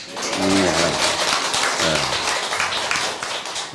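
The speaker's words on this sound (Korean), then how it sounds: "박수를 한없이 보내고 싶습니다." An audience at a Buddhist temple service claps in sustained, dense applause, loud and close, with a few voices calling out briefly over it.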